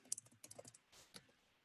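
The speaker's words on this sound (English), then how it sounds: "You just start typing and then hit enter and see what it comes up." Quiet, close typing on a computer keyboard: a rapid run of light key clicks, then a short pause and a couple of softer taps trailing off.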